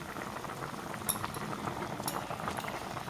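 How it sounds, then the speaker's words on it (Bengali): Curry gravy with kofta boiling steadily in a pot on a gas stove, a continuous bubbling simmer with a few faint metallic clinks, close and fairly quiet, no talking. "ঝোলের সাথে ভালো করে আমি 10 মিনিট ফুটিয়ে নেব"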